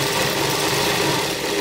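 A sewing machine runs steadily while stitching the side seam of a pregnancy dress, a loud, continuous, close-up mechanical whirring with a rapid even chatter and no pauses.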